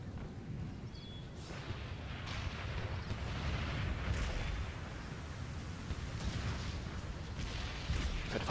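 Continuous rumbling cannon and artillery fire from a European battlefield in Empire Total War, a dense, steady roar of overlapping booms with no pauses and no clear voices.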